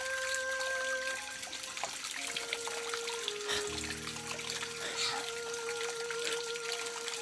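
Clean water trickles and pours steadily in an outdoor setting, a continuous close stream with tonal hums and some background noise throughout.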